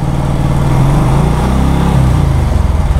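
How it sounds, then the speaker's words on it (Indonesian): Engine revs rising and falling on a Yamaha NMAX 155 scooter, close and loud, a buzzing mid-pitched drone that swells in pulses over a few seconds with no talk. "Pada saat mesin ditambah putarannya"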